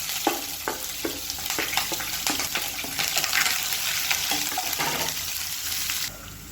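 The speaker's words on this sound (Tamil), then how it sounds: "இப்போ பொடியாக நறுக்கினா வெங்காயம் சேர்த்துக்கலாம்." Finely chopped onions hit hot oil already seasoned with cinnamon pieces and curry leaves, setting off a steady close sizzle with crackling pops and stirring scrapes throughout, no voices, while cooking a home lunch dish.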